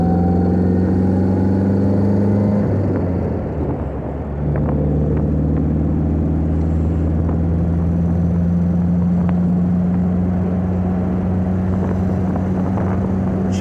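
An MG TF sports car cruising along an open country road, its engine giving a steady, loud, close droning hum with a brief dip in pitch partway through before settling back to an even pace. No one speaks.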